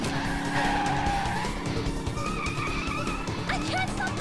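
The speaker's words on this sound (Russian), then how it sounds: "Не могу остановить автобус, он слишком тяжелый." A cartoon bus skids as it brakes hard, a sustained loud tire screech with engine rumble running through the whole stretch, while voices talk over it.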